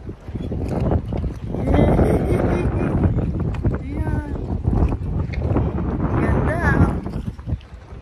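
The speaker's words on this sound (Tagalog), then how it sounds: "Medyo mahangin nga lang" Wind buffets the microphone in a steady low roar, with voices talking over it and choppy lake water sloshing nearby at Lake Lanier, Georgia.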